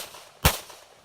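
A single sharp, loud revolver shot cracks out at an outdoor IDPA pistol match, a sudden bang with a short decaying tail and no talking.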